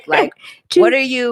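A pet dog barks close by in a room, a couple of short, loud yips followed by a longer whining bark, heard alongside a man's speech.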